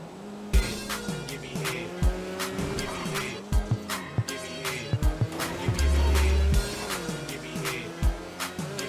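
A car in a racing video game revs with rising and falling engine tones and repeated sharp thumps and squeals, a steady brighter hiss of skidding or boost partway through.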